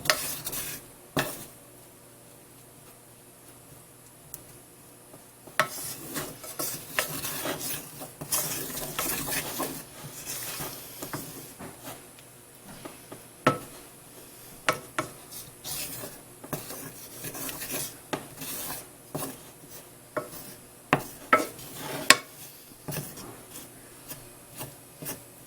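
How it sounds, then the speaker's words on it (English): A spoon scrapes and stirs chocolate in a bowl for a foods class project, producing irregular rubbing, rasping strokes with small knocks, fairly close and steady, with no talk. "Mixing the rest of the chocolate."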